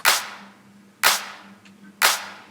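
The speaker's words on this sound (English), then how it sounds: "This is a good sounding clap, but it doesn't have the enough punch that I'm looking for." A drum clap sample with transient shaping and boosted attack plays three times at even one-second intervals, each hit a sharp, punchy crack with a short fading tail, alone and clean.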